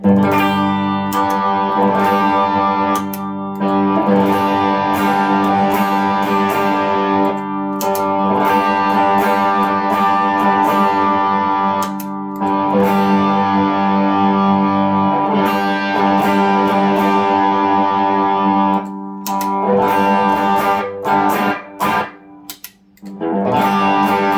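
An electric guitar through an overdrive pedal, such as a Tube Screamer, Klon or D&M Drive, plays sustained, gritty chords and notes, loud and close, with brief pauses between phrases.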